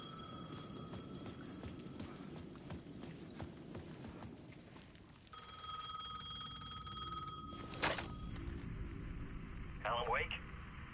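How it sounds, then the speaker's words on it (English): A payphone rings in the video game Alan Wake 2 with repeated trilling bursts over a busy, rumbling background, fairly faint, and a voice speaks during it. "The payphone was ringing again."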